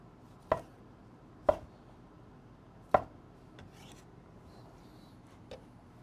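A knife chops cherry tomatoes into quarters on a cutting board: three sharp, close knocks spaced about a second apart, then a few fainter taps and light scrapes in a quiet room.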